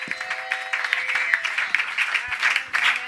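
A church congregation at a Sunday worship service applauds, a loud sustained wash of many hands clapping with voices and cheers mixed in.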